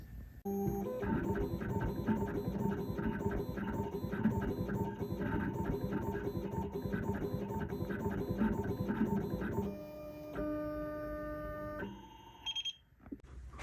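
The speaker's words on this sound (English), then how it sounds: "We're going to be doing inside ring engraving at this point" A rapid, steady machine chatter from an engraving machine cutting a pattern, initials and a date inside a platinum ladies' wedding band, running continuously and close, then shifting to a lighter whirring tone before stopping.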